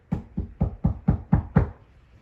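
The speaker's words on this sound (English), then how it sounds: "there was a knock at the front door" Seven firm knocks on a front door in a steady, even rhythm, close and clear with nothing else around them.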